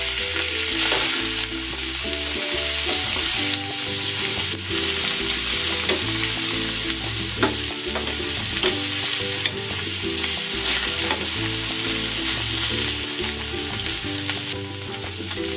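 Pork and mushrooms fry in a pan for a Filipino pork dish, giving a steady, loud sizzle broken by repeated scraping stirs, with no talk.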